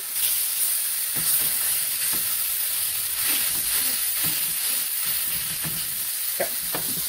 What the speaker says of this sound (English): I'm going to wait and cook the egg in this pan